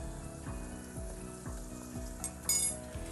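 Sliced onions softening and frying in a pan with turmeric and salt for a Chennai-style South Indian thali, a steady close sizzle with regular scraping stirs about twice per second.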